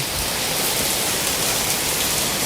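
Steady heavy rain falls outdoors, a loud dense hiss of drops that continues unbroken and close throughout, with no voices.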